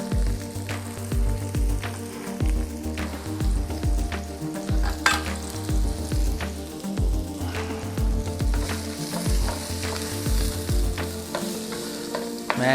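Red onions sizzle and crackle in a hot pan for a pepper steak stir fry, a steady close frying hiss broken by repeated rhythmic knocks of stirring against the pan, with no talking.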